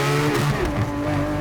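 A car engine revved hard toward about 9,000 rpm and hitting the limiter near 8,800: a brief, loud, high-pitched engine whine, heard close and alone.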